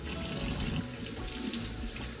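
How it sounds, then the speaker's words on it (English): Zucchini from a home garden are rinsed under a running kitchen sink faucet, making a steady close splashing and gurgling of water that continues throughout with no talk. "I'm just gonna give them a little rinsey rinse in the sink"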